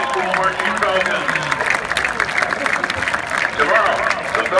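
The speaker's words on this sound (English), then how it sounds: "round of applause for the hardworking students and parents of the High School Marching Falcons" Audience applause and crowd noise for a high school marching band's students and parents, fairly loud and sustained, with voices mixed into the clapping.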